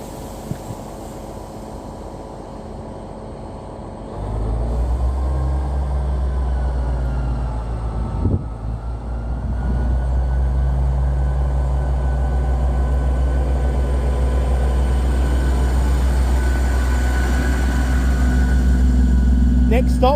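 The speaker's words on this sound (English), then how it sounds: "Now about to depart from platform 5 is the delayed 1247 East Midlands Railway regional service to Peterborough via Lincoln Central." Delayed East Midlands Railway regional service departing platform 5 at Doncaster station: a low engine drone swells after a few seconds and settles into a loud, steady rumble with a faint station hum beneath.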